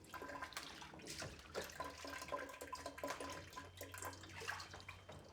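A photographic dye-transfer matrix is washed in a tray of hot water, giving steady, close sloshing and splashing with a faint low hum underneath, no talk.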